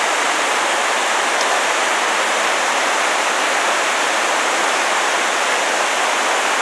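A stream rushing through steep hill country, running hard and high with too much water, heard as a loud, constant broadband roar with no pauses and no voices.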